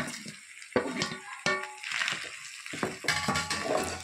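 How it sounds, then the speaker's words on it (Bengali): Boiled potatoes being stirred into cooking meat in a pan for a Kabuli roll, with wet squelching and scraping strokes in uneven bursts, close by, plus a soft sizzle underneath. "আলুটা দিয়ে আমি আবার কিছুক্ষণ নাড়িয়ে নেব"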